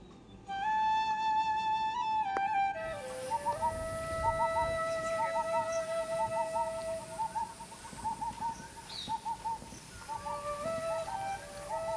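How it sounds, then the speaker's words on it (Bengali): Repeated soft hooting bird calls in a steady rhythm over a constant high whistling tone, with a few faint chirps in the background, by the Ganges at Barrackpore. "পাখির ডাক,"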